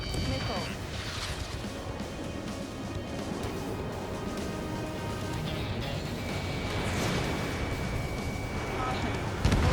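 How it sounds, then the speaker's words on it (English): Missile impacts in a fighter-jet combat video game against enemy bombers, heard as dense, sustained crashing blasts under a constant roar of engine and battle noise, with radio-style voices talking over it throughout. "Missile hit."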